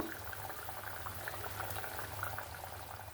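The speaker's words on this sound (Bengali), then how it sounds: "এখানে দেখুন জুসটা ফুটে উঠেছে" Juice bubbling and simmering in a pan for a mustard hilsa curry made with yogurt: a continuous, soft, close boil with fine crackling bubbles and no voices.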